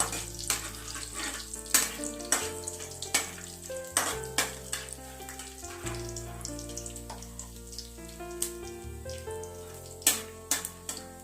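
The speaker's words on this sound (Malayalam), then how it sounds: "ഇതൊന്ന് മൂത്ത് വരുമ്പോൾ നമുക്ക് സവാള ഇട്ട് കൊടുക്കാം." Sliced onions fry in hot oil in a pan for chicken kizhi, a busy crackling sizzle broken by repeated sharp clinks and scrapes of a spoon stirring against the metal.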